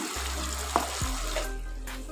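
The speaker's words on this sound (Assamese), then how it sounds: "ইয়াতে দি দিম পানী আৰু দি দিম হালধি" Water is poured into an okra curry as it cooks, a soft close splash and trickle over a steady low background hum, with no talking.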